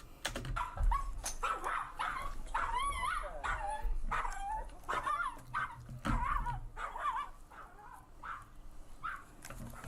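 A big dog barks and yips repeatedly in short, uneven bursts nearby, with some whimpering between barks and a low background rumble.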